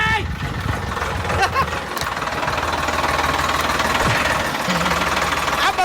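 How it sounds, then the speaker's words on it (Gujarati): A tractor engine runs close by with a constant low, knocking rumble and a rough mechanical clatter that holds steady throughout. "ટ્રેક્ટર બંધ કરો"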